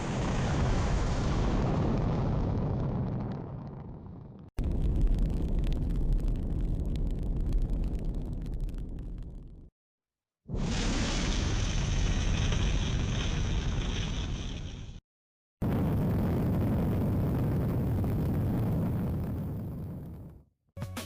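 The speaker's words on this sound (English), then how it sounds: "Powerful rocket engines roar, flames burst, and rumbling echoes as the rocket ascends, creating a dramatic launch scene." An AI-generated rocket launch sound plays in separate bursts, heavy roaring rumble and hiss of engines and flames, each section loud and sustained before cutting off abruptly, with short silences between.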